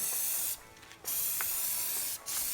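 Dupli-Color Tireshine aerosol sprayed onto a truck tire: close, loud hissing spray bursts with two short pauses between them, no voices.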